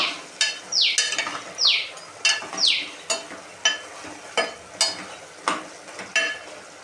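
Chicken curry simmering in its own juices in a pot, a soft bubbling sizzle broken by a steady series of about a dozen sharp stirring scrapes, close and without talk.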